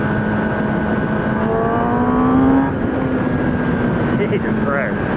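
A motorcycle engine revs up, its steady buzzing drone climbing in pitch, then dropping back to a lower, even idle, loud and close.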